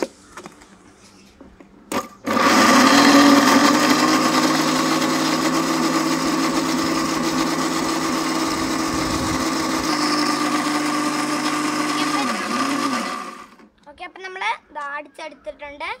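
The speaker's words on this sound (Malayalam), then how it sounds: "നാരങ്ങ ഇട്ട് ഇനി നമുക്കിത് അടിച്ചെടുക്കാം" Blender whirring through lemon and ginger for juice, starting abruptly after a moment of quiet, running as a loud steady high-pitched drone for about eleven seconds, then winding down, with speech before and after.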